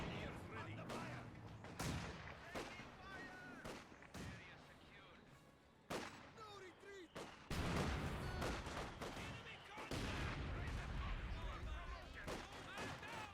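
Mortar shelling in the Company of Heroes 2 video game: a series of loud, sharp blasts and thuds recurring irregularly, each followed by rumbling decay, with game battle noise running continuously throughout.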